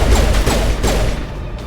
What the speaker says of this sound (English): I feel like I have the best pistol in the game.